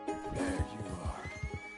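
A horse in Red Dead Redemption 2 lets out a loud, close, quavering whinny lasting nearly two seconds, with faint hoof clops and soft game ambience beneath it.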